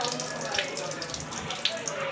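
Water drains from washed rice through a strainer, a steady close splashing trickle running the whole time.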